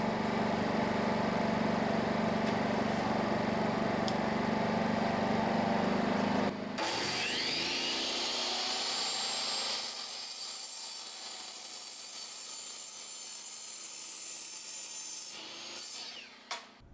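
A Craftsman 3000i portable generator drones loudly and steadily, then, with eco mode off, shifts to a lighter, higher whine that holds before tapering off near the end.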